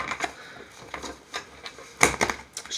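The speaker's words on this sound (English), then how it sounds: "I'm shuffling the cards, guys." Tarot cards being shuffled by hand, giving a run of soft papery riffles and flutters with a sharper burst of card snaps near the end, close up and with no talking.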